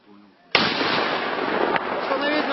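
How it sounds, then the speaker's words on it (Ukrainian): After a quiet moment, a sudden loud blast of mortar fire erupts into a sustained, harsh rumbling roar that carries on to the end, near Debaltseve. "Міномет!"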